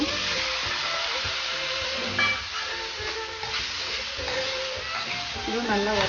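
Chopped tomatoes fry with onions in hot oil in a pan for a Maggi omelette, giving a continuous sizzle and hiss with occasional stirring scrapes and clinks.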